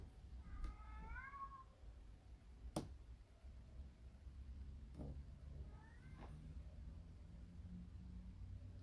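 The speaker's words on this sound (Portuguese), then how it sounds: "Com o gato chorando no fundo." A cat meows in the background, one drawn-out wavering cry near the start and a shorter one a few seconds later, faint against a low steady hum with a couple of sharp clicks.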